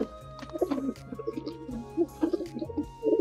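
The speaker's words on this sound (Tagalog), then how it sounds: "Itong ibon na to" A bird coos and warbles repeatedly at close range, soft chirps mixed in, with a low steady hum underneath.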